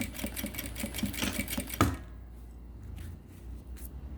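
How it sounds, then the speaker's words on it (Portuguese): A sewing machine runs a fast, steady stitching burr along a gym backpack seam for about two seconds, then stops, leaving faint handling noises in a quiet room. "vou passar a costura a partir da canaleta"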